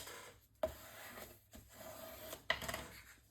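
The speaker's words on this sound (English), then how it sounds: "burnish this down just so that I know the whole entire thing is really adhered to my spine" Paper being burnished onto a mini album spine, heard as quiet dry rubbing strokes with a few sharper scrapes and taps along the way.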